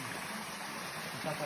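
Small waterfall running low in summer on a farm hiking trail, a steady splashing rush of water, continuous and fairly close, with no clear talk.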